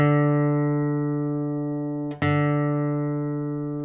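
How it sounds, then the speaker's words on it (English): A single low acoustic guitar note on the open fourth string sounds and rings out, is picked a second time midway, then fades slowly with nothing else heard. "The next bass note is on string 4."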